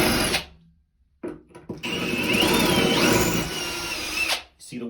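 Cordless power drill pre-drilling into porcelain shower tile for grab bar mounting, a steady high whine with a grinding bite lasting a few seconds, starting after a short burst and brief pause, close and loud.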